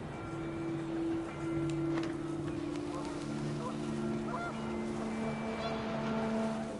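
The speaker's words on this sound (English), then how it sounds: "The wind picked up, and panicked geese appeared and quickly went." Geese honk in the What Remains of Edith Finch video game, faint and somewhat distant, with a few short calls over a windy, steady background drone.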